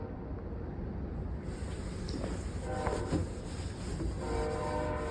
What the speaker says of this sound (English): These train horns have to get in every one of my videos.